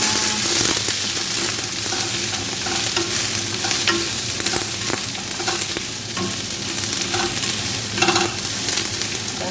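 Beef steak strips with bell pepper and onion fry steadily in a pan, a loud continuous sizzle with crackles and occasional stirring clatter throughout.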